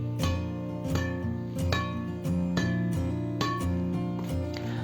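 Sharp, ringing pings of Yonex Z65 strings on a badminton racket struck several times at irregular intervals, each with a bright metallic decay, up close and fairly quiet.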